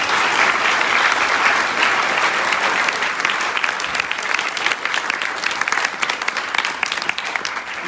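A crowd at an evening candidates' climate forum in Corangamite applauds. The loud, dense clapping is steady and sustained throughout, with no talk over it.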